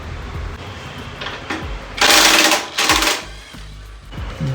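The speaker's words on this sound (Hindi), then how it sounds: "अब इसके बाद यहाँ से हमें ये वाले बोल्ट खोलने हैं।" Mechanic loosening bolts on a Royal Enfield Classic motorcycle with the seat removed: a couple of short, harsh ratcheting or tool bursts close by, separated by quieter clicks and handling noises.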